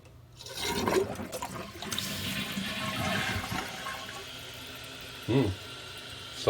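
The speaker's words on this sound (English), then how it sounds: "Let's try it again, see how much water it uses." A toilet flushes with a rushing swirl of water that gradually settles into a quieter refilling trickle, with a brief voice near the end.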